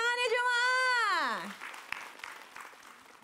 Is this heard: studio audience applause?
yes